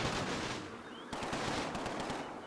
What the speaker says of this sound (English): There's that tank shooting our machine gun and then pelting it some more.